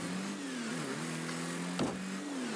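Engine of a car in Rocket League accelerating, a steady mid-pitched drone that rises and dips slightly in pitch, with a brief impact-like burst partway through; no talking.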